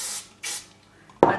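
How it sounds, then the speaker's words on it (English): Bedhead Masterpiece hairspray is sprayed onto bleached fine hair in short, gentle bursts: two soft, close hisses followed by a louder, brief spray. "I spray it with the Bedhead Masterpiece"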